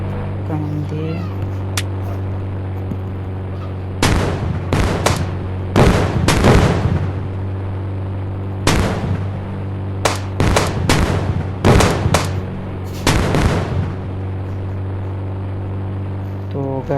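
Cannon blasts and bursts of gunfire ring out in a 3D bike-driving video game involving an army helicopter, with clusters of loud sharp shots over a steady low engine drone.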